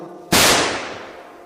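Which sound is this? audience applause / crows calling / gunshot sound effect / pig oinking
gunshot sound effect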